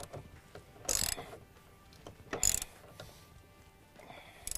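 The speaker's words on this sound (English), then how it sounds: "I'm gonna go ahead and tighten across the bottom of all three here." Bolts being tightened on the mounting hardware of Jeep Wrangler spacers, giving faint mechanical ratcheting clicks with three short louder bursts spaced a second or two apart over a quiet background.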